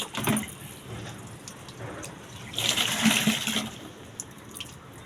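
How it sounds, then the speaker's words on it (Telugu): Water splashes and swishes as a child rinses the mouth after brushing teeth, with faint gurgling and running-tap sounds at moderate volume, rising in a louder burst midway. "నోట్లో నీళ్ళు పోసి కడగవా?"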